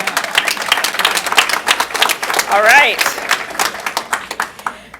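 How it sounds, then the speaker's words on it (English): Close, steady clapping from a small group at a pharmacy committee meeting, with a voice briefly speaking and a rising whoop partway through. "Now, that would be a applause."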